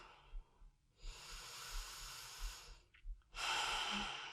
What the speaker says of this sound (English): Just normal breathing.